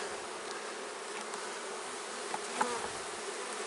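Honeybees buzz in a steady, dense drone from an opened hive during re-queening, close and continuous, with a couple of faint clicks near the end.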